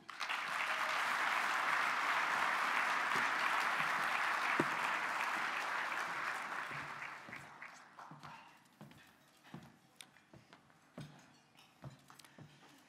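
An audience at the 2019 State of the Port event for the Port of Long Beach breaks into loud, dense applause that holds steady for several seconds, then thins into scattered claps and fades.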